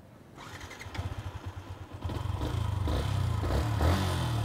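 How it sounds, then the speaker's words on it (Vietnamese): A Yamaha Exciter 150 motorcycle engine starts up and settles into a loud, close, steady exhaust rumble that grows louder and rougher over a few seconds, with no talking. "Kèm theo chúng ta sẽ test thử tiếng ống xả luôn."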